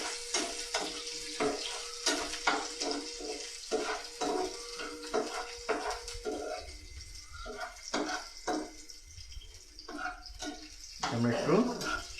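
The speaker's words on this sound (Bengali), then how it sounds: "আমরা একটু ফ্রাই করে নিচ্ছি।" Onion and half a tomato frying in a pan for kabuli chana masala, a steady close sizzle broken by repeated stirring scrapes, with a voice talking over the cooking.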